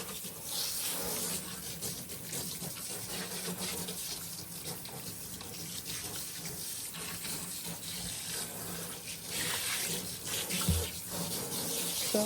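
A running tap rinses soap off a doll in a basin, a steady close rush of water with faint rubbing and splashing through it and a brief thump near the end.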